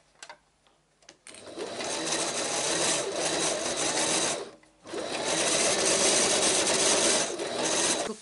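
A domestic sewing machine stitching forward and back over elastic on a reusable fabric surgical mask, running in two long steady bursts of dense mechanical whirring separated by a short pause, after a few soft handling clicks at the start.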